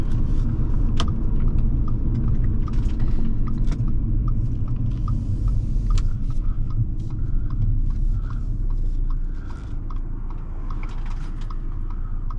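A 2012 Audi A4 2.0T Quattro's engine drones steadily from inside the cabin, a deep continuous rumble with road noise and small interior rattles, the tone easing slightly toward the end.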